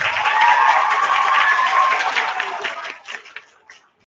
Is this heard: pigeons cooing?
no